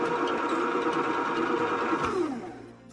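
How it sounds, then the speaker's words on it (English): Slow juicer motor switched on, running as a steady mechanical hum that stays loud and constant for about two seconds, then winds down and fades toward the end, with no talking. "on, which starts the motor"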